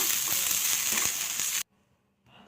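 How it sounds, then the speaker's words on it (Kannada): Spices and coriander leaves fry in a pan for egg masala, a close, bright sizzle with a few stirring knocks that stops abruptly after about a second and a half, leaving near silence. "ಆಫ್ ಮಾಡ್ಕೊಂಡು ಅದೇ ಬಿಸಿಲಿ ಸ್ವಲ್ಪ ಹಿಂಗೆ ಫ್ರೈ ಮಾಡ್ಕೋಬೇಕು"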